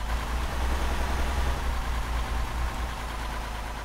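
A truck engine in the video game Arma 3 Altis Life runs with a steady, loud low rumble close by. The sound stays even throughout with no talking.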